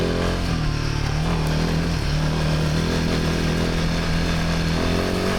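A Royal Enfield Himalayan 450 motorcycle accelerating off-road on an unpaved track, its engine loud and close with a steady droning note that briefly drops and climbs again as the throttle opens.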